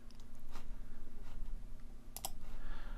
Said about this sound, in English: right click and then left click on copy